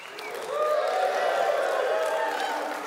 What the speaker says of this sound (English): You're cheering.